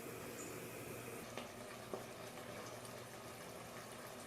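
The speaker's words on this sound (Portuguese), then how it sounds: "Vocês viram a fervura como ficou." Fern shoots boiling in a pot of water with baking soda on a stove, a steady, faint bubbling hiss with a couple of small clicks and pops.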